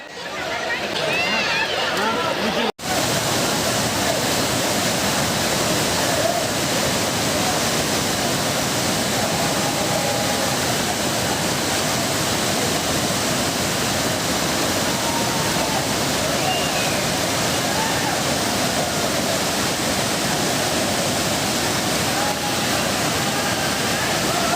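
Hogenakkal waterfalls on the Kaveri river roar as a dense, steady rush of falling water, loud and unbroken, with a faint voice in the first seconds.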